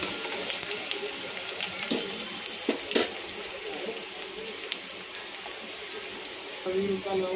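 Onion frying in a pan on an Indian home stove for dal dhokali, a steady close sizzle with scattered crackles and stirring clinks, under a voice talking.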